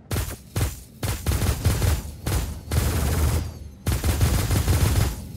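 Rapid automatic gunfire from a weapon in the Star Citizen video game, loud repeated bursts separated by short pauses, with no talking over it.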